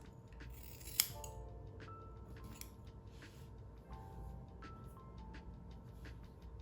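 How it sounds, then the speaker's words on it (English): Scissors snip through hair to cut it straight across in a blunt cut, a series of crisp close metallic clicks and shears at irregular intervals over a quiet background. "I'm just going to cut it straight across."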